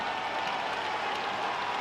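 A home crowd at an ice hockey game cheers and applauds after a fight. The roar is steady and dense and comes from a distance, with no single voice standing out.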